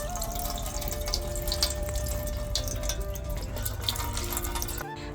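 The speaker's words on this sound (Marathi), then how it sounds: "आता हे पांढरं पाणी निघालेलं हे काढून घेऊ." Cloudy rinse water is poured off washed lentils in a home kitchen while making dal khichdi, a steady splashing, trickling flow lasting several seconds at moderate loudness.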